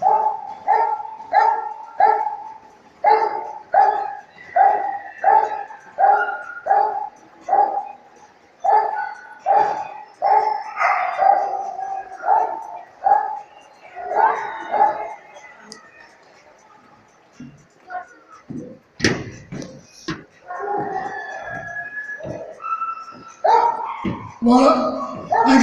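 A dog barks in rapid repeated bursts during a guarding exercise, holding its object against a helper, with a steady rhythm of loud close barks, a short pause, then more barking and whimpering.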